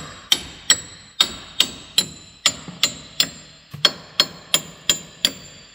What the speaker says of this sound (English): Getting these studs out of here.